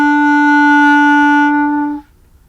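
A clarinet sustains a single clear E, reedy and steady, before the tone stops abruptly with nothing after it.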